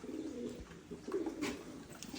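Pigeons coo in a loft, soft repeated low throaty calls rolling on steadily, fairly close, with no voices.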